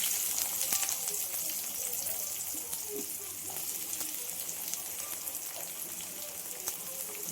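Chopped onions with mustard seeds, chana dal and urad dal sizzling in hot oil in a pan, a steady hissing crackle with scattered small pops throughout.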